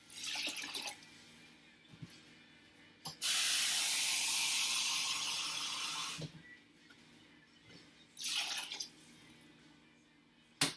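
Water rushes into a cooking pot in a few short bursts, a long steady pour in the middle and a shorter splash later, with quiet pauses between.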